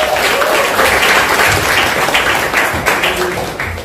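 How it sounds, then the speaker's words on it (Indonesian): A seated audience at a talk featuring Rocky Gerung bursts into loud, sustained applause, dense overlapping clapping that holds steady and then begins to taper. "Sekali lagi beri aplaus untuk Bung Rocky Gerung"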